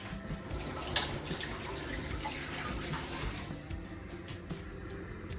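A peeled sweet potato is rinsed under a running kitchen tap, with water streaming steadily into the sink and splashing over it for several seconds, the flow softening toward the end.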